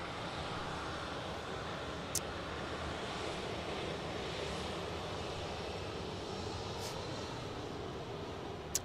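Airplane taxiing out at Dallas Love Field after rain, heard from a parking garage as a steady, distant broadband engine roar with a faint whine and slight wind buffeting.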